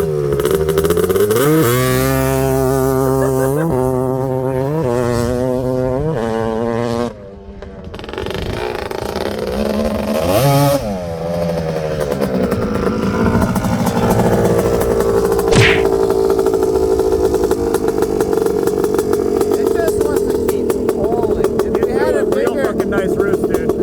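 Honda TRX250R drag racing ATV two-stroke engine revving hard at launch, loud close wailing pitch climbing through several steps, then a sustained high buzzing drone with voices in between.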